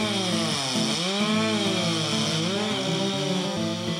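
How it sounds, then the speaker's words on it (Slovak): A chainsaw cuts through wood with a loud, continuous whine, its pitch sagging and recovering as the blade bites into the log. "Keď to nejde s pílou"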